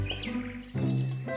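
A mother bird in a cartoon chirps in quick, bright tweets, with short bursts repeating over a lower musical background.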